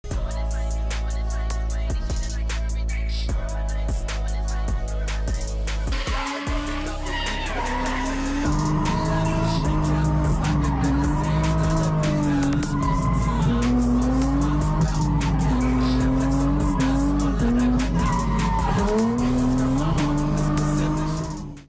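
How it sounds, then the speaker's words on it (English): A car drifts hard on a closed mountain road with screeching tires and a roaring, revving engine that rises and falls, loud and sustained throughout. "cool clip of him drifting at a closed mountain road"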